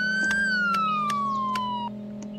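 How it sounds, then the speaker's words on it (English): Police car siren in a Roblox game: a loud wailing tone slowly falling in pitch, broken by regular sharp clicks, over a steady engine hum, cutting off near the end. "But there's lights and different type of sirens."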